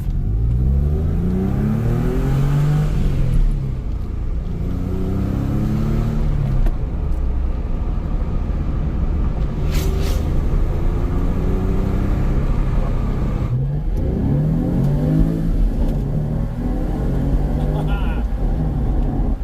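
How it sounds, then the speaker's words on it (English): A Porsche 911 engine revs loudly several times, each rising roar followed by a falling exhaust note, with a voice talking over it at times. "let's hear this exhaust, or lack of."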